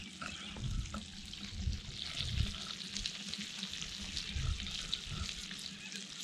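Razorfish frying over campfire flames, a continuous close sizzle with spitting crackle and occasional stirring scrapes from the pan outdoors.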